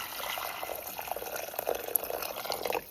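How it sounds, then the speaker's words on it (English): Water poured into a cooking pot holding pigtail for Jamaican rice and peas, a steady close splashing and dripping that carries through the whole stretch with no talk. "and then add some water"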